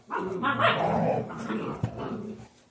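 Close puppy barking and growling, busy and continuous, with a person talking over it and one sharp knock near the end.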